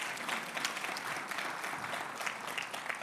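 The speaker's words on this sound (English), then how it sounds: "So how about a round of applause to welcome those students and thank those sponsors" An audience at a Detroit Economic Club event applauding to welcome students and thank sponsors: dense, sustained clapping from a large crowd in a hall, even and moderately loud throughout with no voices standing out.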